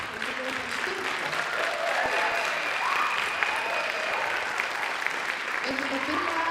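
Audience clapping for a group on stage at a style and hair competition, a steady sustained wash of applause from a crowd with no break in it, with some voices mixed in.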